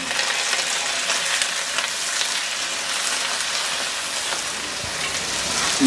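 Flat beans frying in hot oil make a steady, loud, dense sizzle, like rain, close up and uninterrupted, with no speech.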